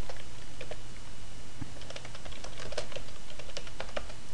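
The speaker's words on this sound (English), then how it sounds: "So I just type set zone ridge" Quick, steady keystrokes on a computer keyboard as a Minecraft command is entered to set up a team deathmatch war zone, close clicks over a low constant hum, with no speech.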